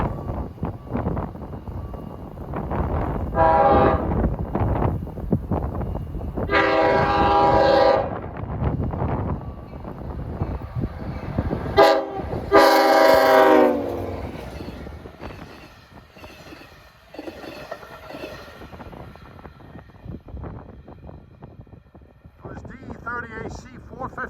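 A Long Island Rail Road AC locomotive, number 415, sounds its horn in several loud, long blasts while its engine rumbles past on a cold, snowy, windy day at a grade crossing, with other track noise around.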